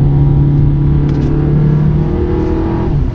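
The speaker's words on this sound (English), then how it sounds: "you can also put it in manual mode, which lets you shift the gears like this" Close, loud engine drone from a 2018 Volkswagen Tiguan S 4Motion with an 8-speed automatic, revved in manual mode during repeated downshifts; the steady tone holds with slight shifts in pitch.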